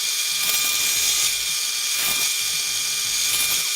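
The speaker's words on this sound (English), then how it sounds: "I've gone ahead and chucked up a 1/2 inch brad point drill bit in my drill press" A drill press fitted with a 1/2 inch brad point bit bores into wood, giving a steady high mechanical whine with a few rhythmic grinding pulses as the bit cuts, close and alone without talk.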